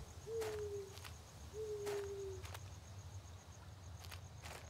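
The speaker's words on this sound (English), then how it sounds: "Got the Hooter Owl." An owl hoots twice in a horror video game, each call a drawn-out descending hoot, spaced about a second apart over a quiet ambient background with faint soft thuds.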